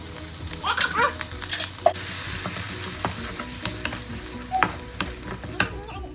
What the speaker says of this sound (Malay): Make sure to put a little bit of oil and goreng dia sampai dia garing